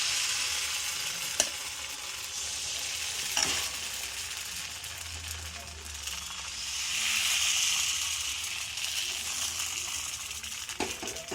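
Appam batter from fermented rice dough sizzling in an appam pan on a stove, a steady soft hiss with a couple of sharp metallic clinks and a swell of louder frying toward the end.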